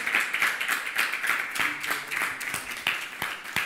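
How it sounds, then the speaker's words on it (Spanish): A church congregation claps at an evening service, a steady run of sharp overlapping claps sounding close and fairly loud, with no voices over it. "Denle un aplauso al Señor en esta noche"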